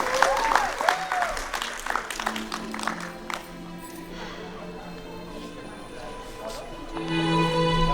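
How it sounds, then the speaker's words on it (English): A wedding reception crowd gives a burst of clapping for the couple, dense and lively for about three seconds before it fades into quieter room sound and low music. "please give a round of applause for our favorite couple"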